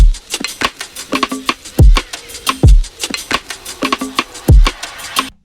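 A punchy hip-hop drum groove with deep, booming layered and compressed kicks, snappy hits and steady hi-hats repeating in a tight loop, loud and up close.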